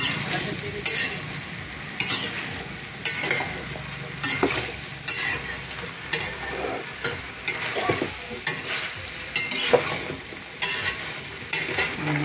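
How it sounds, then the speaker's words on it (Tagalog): Vegetables sautéing in a home kitchen pan, a steady bright sizzle with regular stirring scrapes and clinks every second or so, close and moderately loud throughout. "Igisa muna natin."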